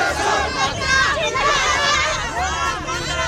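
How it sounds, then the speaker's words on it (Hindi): A dense crowd at Kathmandu airport shouts and chants slogans in a loud, continuous surge of massed voices, rising and swelling in waves close by. "भीड़ नारे लगा रही थी"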